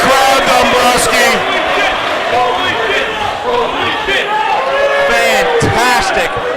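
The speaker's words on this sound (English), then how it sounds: "Oh my God. Listen to this crowd" A wrestling crowd at the 1PW No Turning Back 2006 show roars loudly and continuously after a high-risk move, with dense cheering, whoops and shouts filling a large hall from start to finish.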